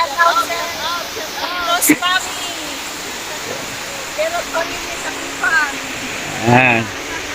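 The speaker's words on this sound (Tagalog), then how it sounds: "Andito kami ngayon sa Bagak Falls. Napaganda dito." Bagac Falls waterfall in Bataan rushing as a continuous broadband roar close by, with people talking and calling out over it at intervals.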